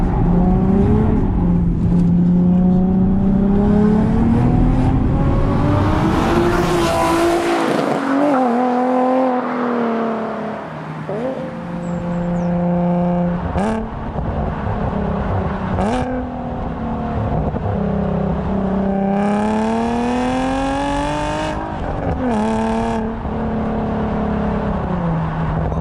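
Nissan 370Z sports car engine driven and revved, loud and close, rising and falling through repeated accelerations and gear changes with a strong throaty tone, brief lifts off the throttle between pulls.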